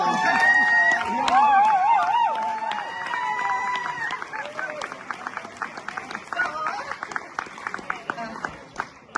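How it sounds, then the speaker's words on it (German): Crowd applause at an outdoor charity children's festival in Gommersheim, a dense patter of many hands that swells and carries on for several seconds beneath cheerful voices and chatter. "Geh mal her, Applaus!"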